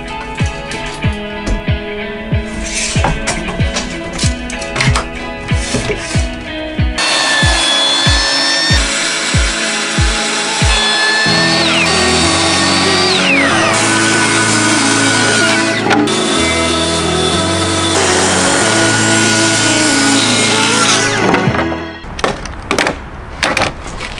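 Wood boards for a skoolie bus conversion are cut with a power saw, starting with a steady whine and a few short sharp knocks, then moving into a long, loud, continuous cutting drone that cuts off near the end.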